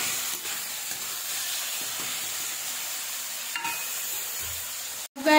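Chopped tomatoes hiss and fry steadily in a pan with occasional soft stirring scrapes, ending in a sharp knock.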